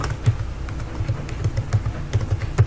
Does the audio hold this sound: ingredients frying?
no